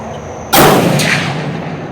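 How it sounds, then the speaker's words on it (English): A single unsuppressed gunshot fires at an outdoor shooting range. It is a sudden, very loud blast that decays with a broad rumbling echo over the next second. "let's take a shot and see what this sounds like unsuppressed."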